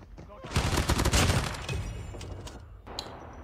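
Bursts of automatic gunfire in the mobile shooter COD Mobile during a ranked team deathmatch, a dense rattling volley followed by scattered single shots, with a voice speaking briefly.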